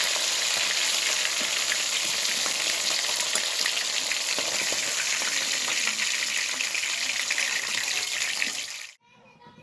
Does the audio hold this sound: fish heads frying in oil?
yes